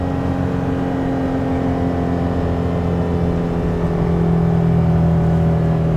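A 2023 Nissan Frontier Pro-4X towing a trailer downshifts and slows, its engine hum steady and close with slowly shifting tones and no talking in the clip.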